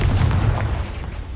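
The Confringo blasting spell in the video game Hogwarts Legacy sets off a heavy booming explosion that hits hard at the start, then rumbles and fades over about a second.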